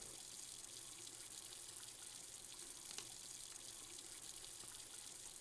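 Water runs steadily from a household tap, a continuous, even rushing hiss that holds at the same level from start to finish with no talking.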